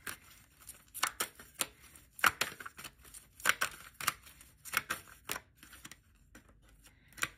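Tarot cards shuffled and drawn by hand, a run of crisp irregular flicks and snaps in quick bursts with short pauses, close and fairly quiet, no talk.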